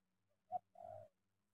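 A spotted dove gives a single soft two-part coo, faint and somewhat distant, against an otherwise quiet outdoor background.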